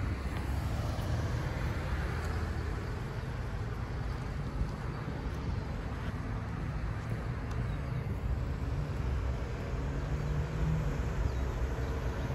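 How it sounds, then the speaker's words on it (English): A Mini car's loud engine rumbles steadily with broadband road noise, a continuous low drone with no distinct pass-by peak and no voices. "Mini is a loud motor."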